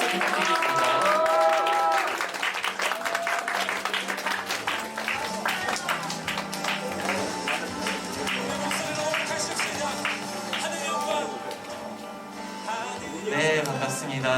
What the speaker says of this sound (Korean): 나오실 때 큰 박수 부탁드리겠습니다